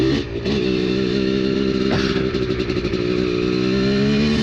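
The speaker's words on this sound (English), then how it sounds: "That second gear, kind of off idle, lugging just a little bit." A Honda two-stroke R/C motorcycle with its power valve removed lugs in second gear just off idle, a steady close engine drone with a slight rise and some clatter, no talking.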